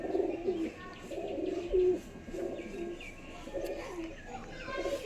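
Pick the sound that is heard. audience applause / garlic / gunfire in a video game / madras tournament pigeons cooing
madras tournament pigeons cooing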